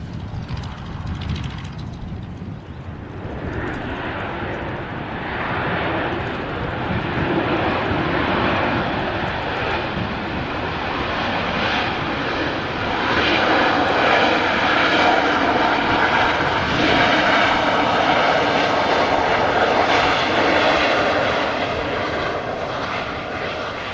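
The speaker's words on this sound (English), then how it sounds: "Just arriving in from Milan. It's Ryanair flight 6819." Ryanair airliner arriving at Manchester airport, arriving from Milan: a loud, sustained jet engine roar that swells and holds steady as the plane passes fairly close, with no voices over it.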